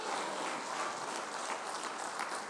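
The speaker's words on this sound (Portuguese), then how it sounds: "Bata as palmas para ele" Congregation clapping during a Portuguese-language church sermon, a dense, even wash of hand claps heard at moderate distance and fairly quiet, continuing without pause.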